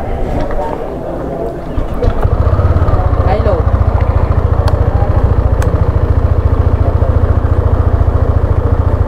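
A Yamaha Mio Roxy style scooter-motorcycle in blue idles close by, its engine starting up after a brief stretch and settling into a steady, loud, rhythmic putter.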